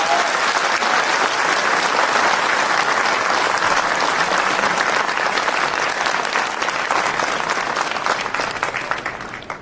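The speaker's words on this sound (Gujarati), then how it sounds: "તમે બધા તૈયાર હોય તો એક વાર જોરદાર તાળીઓ પર." A crowd at a Thakor Sena community gathering breaks into loud, sustained clapping that fills the whole stretch before thinning slightly at the end.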